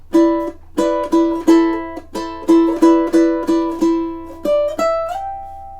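Ukulele playing measures three and four of a song, crisp strummed chords in quick succession ending on a sustained ringing chord, solo instrument with no talking.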